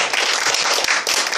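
Church congregation applauding, standing at a New Year praise concert: dense, continuous clapping throughout, loud and close, without talk.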